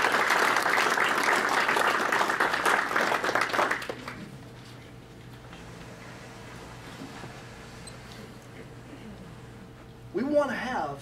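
Audience applause for a speaker at a club meeting, a dense burst of clapping for about four seconds that stops abruptly, followed by quiet room tone and a voice beginning to speak.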